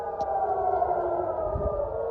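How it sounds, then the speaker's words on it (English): Air raid sirens wail during a missile attack on an Iranian city, a steady sustained tone held for the whole stretch, fairly distant with faint background rumble and no talking. "They heard the sirens."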